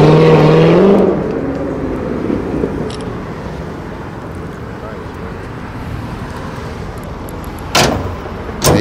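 A 1969 Camaro engine fitted with headers and an aftermarket cam rumbles loud and low at first, then settles into a steadier, quieter drone with a sharp burst near the end.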